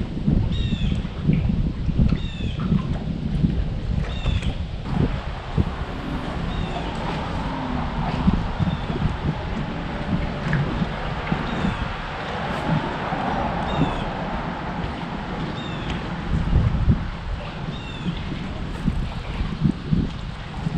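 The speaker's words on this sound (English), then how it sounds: "Battling the wind," Steady wind roars and buffets the microphone from a fishing boat on Paw Paw Lake during fall bass fishing, a loud, unbroken rush with faint bird calls now and then.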